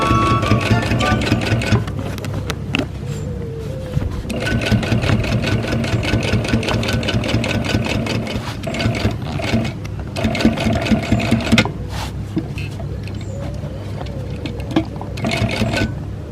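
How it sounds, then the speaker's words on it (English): A heavy duty sewing machine stitches tent fabric in fast, steady rhythmic bursts of its needle mechanism, running almost continuously with short pauses, close and loud. "My heavy duty sewing."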